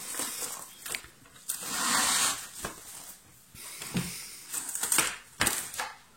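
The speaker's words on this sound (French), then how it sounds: "Et là, je vais la recouvrir de papier film." Crinkling, rustling plastic cling film being pulled and pressed over bread dough, with short snaps and crackles in irregular bursts, close by and without talk.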